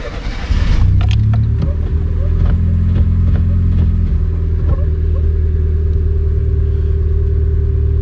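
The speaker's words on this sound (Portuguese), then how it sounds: "Vou ligar o carro rapidinho." A car engine cranks and catches, then settles into a steady low idle rumble that continues throughout.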